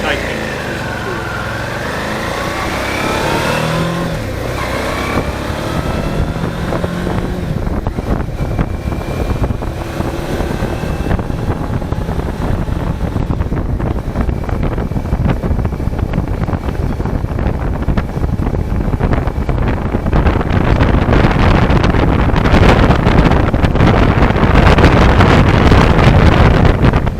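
Motorcycle ride with a Viofo MT1 dual lens camera fastened by self-adhesive mounts, dominated by steady broadband wind roar and rumble that builds louder toward the end, engine drone buried underneath, no talk.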